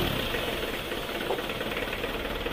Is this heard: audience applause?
no